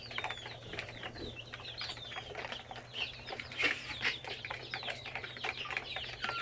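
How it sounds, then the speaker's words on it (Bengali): Chickens on a farm cluck and chatter in short, overlapping calls, with occasional wing flaps over a low steady background hum, close to the listener. "এই যে একটা মুরগি"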